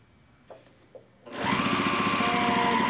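A sewing machine stitching a quarter-inch seam on a stuffed frog toy at a small stitch length, two soft clicks first, then a loud, steady rapid mechanical whir running close up to the end.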